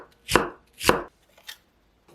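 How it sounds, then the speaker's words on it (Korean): A knife minces half an onion on a cutting board, striking it twice sharply and close, then once more softly. The chops are heard alone, with no talking. "양파 반 개는 다져주세요."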